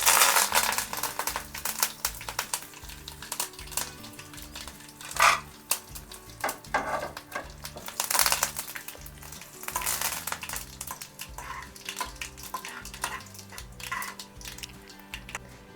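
Curry leaves crackle and spit in hot oil, alongside cumin, mustard seeds and stone flower, as spices for an egg pulusu; a steady, close frying sizzle with occasional sharper pops and a few soft utensil scrapes, with no talking.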